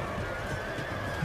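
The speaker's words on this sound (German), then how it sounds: "Da kommen noch mehr Pferdereiter von mir." Cavalry horses charging in the samurai strategy game Total War: Shogun 2, a dense rumble of pounding hooves with horse whinnies and battle noise, steady and loud.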